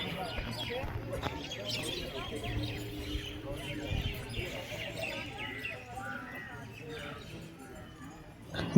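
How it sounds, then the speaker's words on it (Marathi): Birds chirp and twitter in the background outside a pagoda with a stupa flanked by two kneeling elephant statues, with light, scattered calls running through a steady bed of ambient voices and outdoor noise. "जर तुम्ही माझ्या बॅकग्राऊंडला बघाल तर पक्ष्यांचा किलबिलाटाचा आवाज"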